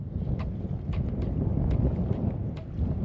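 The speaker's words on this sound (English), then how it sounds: "There's a bit of wind out." Wind gusts buffet an outdoor microphone beside water during a fishing outing, a steady low roaring rumble with continuous broadband rush and no talking.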